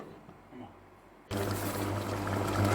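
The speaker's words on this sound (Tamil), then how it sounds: "எண்ணெய் சிறிதளவு, ஊற வச்சுருக்கிற சிக்கன் சேர்த்து எண்ணெயில் நல்லா வேகட்டும்" Marinated chicken dropped into oil in a pan for chicken sukka, with a sudden loud, steady sizzle that starts after a quiet moment and keeps going to the end, close up.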